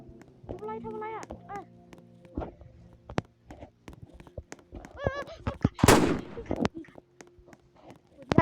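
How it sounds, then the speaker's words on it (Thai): A gun goes off in a video game: a few sharp digital shots crack out briefly amid game sounds and effects, with people talking over much of it. "ปืนลั่นทุกคนปืนลั่น"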